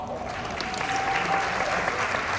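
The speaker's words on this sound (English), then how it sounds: "Can you give yourself a round of applause?" A conference audience applauds in a steady, dense wash of clapping that carries on throughout, moderately distant with no pauses.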